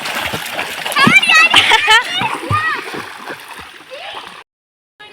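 A child swims in a river, splashing and sloshing water close by while children and adults talk and shout over it, the splashing fading out near the end.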